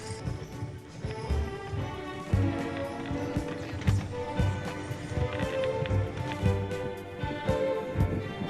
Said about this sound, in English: Riding on a sleigh pulled by horses is different from riding on a sleigh pulled by dogs.